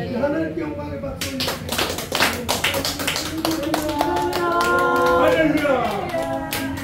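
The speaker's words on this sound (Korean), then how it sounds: "하나님께 영광의 박수" Church congregation clapping in praise, a dense run of hand claps over music with sustained tones, steady and fairly loud throughout.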